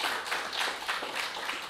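Soft, sparse clapping from mourners at a funeral service, with irregular individual claps that sound distant and faint in a quiet room.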